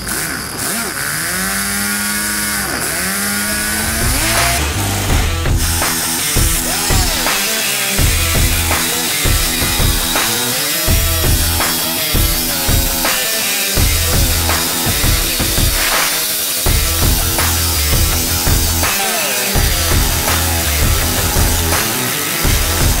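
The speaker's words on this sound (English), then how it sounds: "we're gonna take our cutoff wheel. We're gonna go ahead and cut out that outer piece of metal following our lines." A cutoff wheel grinds through the outer sheet metal of a truck body. The loud, continuous, high-pitched whine runs steadily throughout, with rough rhythmic surges as the disc bites into the panel.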